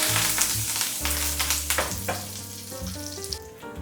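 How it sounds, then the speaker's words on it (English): Cumin seeds and fresh curry leaves sizzle in hot oil, a close, bright crackle with sharp pops and spits over a steady hiss and a low hum, with no talking. "Now in this I'll be adding in around half teaspoon of cumin seeds. Okay, then I'll add fresh curry leaves"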